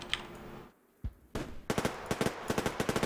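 Survarium, a post-apocalyptic multiplayer shooter, gives a close burst of game gunfire: a single sharp shot, then rapid automatic fire in quick repeated cracks, with no talk over it.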